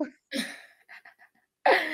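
A single sharp cough bursts out up close, followed by a few faint breathy sounds, then another harsh burst near the end.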